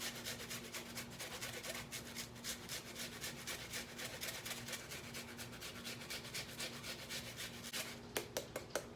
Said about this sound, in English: I'm going to grate the onion right in here